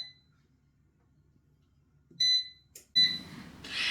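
An air fryer's electronic timer sounds a few short, high beeps, with soft clatter and handling noise after them.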